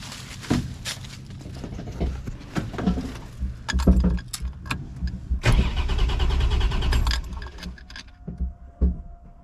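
Engine of a rotting 1967 Cadillac convertible with a fuel cell in the trunk, outdoors: keys jangle, then several short bursts of starter cranking and a sputtering catch, moderately close, with no speech.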